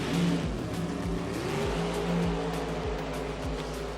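Drag race cars at an IHRA Nitro Pro/Am and bracket racing event, a loud roaring engine drone from the starting line with repeated rising revs, heard from a distance over continuous crowd and track noise.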